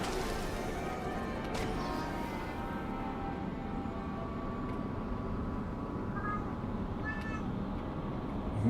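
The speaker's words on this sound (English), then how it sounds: "That's the cat saying hello." A cat meows several times in a chatty, drawn-out way, fairly faint against a steady hum of background noise, with a sharp knock or thump partway through.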